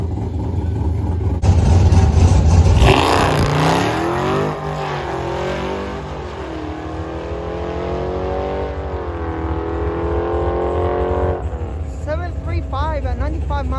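Nitrous-fed, E85-fuelled Dodge Scat Pack launching down a drag strip, a loud engine roar rising through rapid gear changes then fading into the distance, with crowd noise and talk around it.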